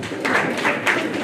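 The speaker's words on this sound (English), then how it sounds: "Can we give Waziri a better clap?" An audience at a county SDGs dialogue meeting applauds for a speaker, a dense, steady burst of clapping throughout, fairly loud and close.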